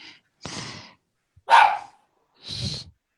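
A pet dog barks three times in quick, sharp, separate bursts close by indoors, with short gaps of silence between them.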